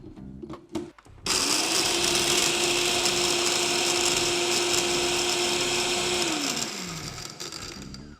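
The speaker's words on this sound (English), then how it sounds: "We're using a blender to actually grind our spices and have an even grind." A blender grinds spices, including cardamom, in one loud, steady whirring run of about five seconds, then winds down. Brief clatter comes before it starts.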